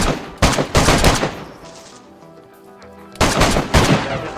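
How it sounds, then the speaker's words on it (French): Close gunfire in the survival game DayZ: two loud bursts of rapid shots, separated by a quiet gap of about two seconds. "Qui tire là?"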